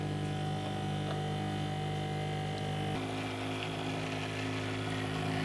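An airbrush spraying Americolor edible silver sheen color onto a cake gives a loud, steady mechanical hum and hiss from the compressor, droning without a break, with a slight shift in tone midway.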